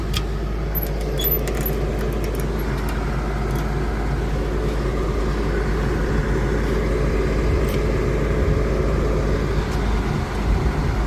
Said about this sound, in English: Spreading gravel.